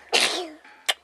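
A single sneeze sounds close up, a sharp burst of breathy noise followed by a brief second puff of air, in an otherwise quiet room.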